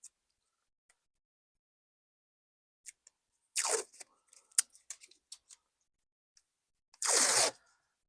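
Masking tape torn and pulled off the roll at a workbench while taping a guitar fretboard edge: two short ripping bursts a few seconds apart, with scattered small clicks and handling taps between them in near silence.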